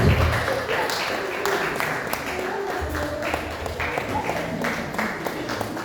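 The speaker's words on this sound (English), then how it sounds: "A round of applause, please." A crowd at a Christmas party applauds steadily with dense, continuous clapping throughout, moderately loud, with faint voices mixed in.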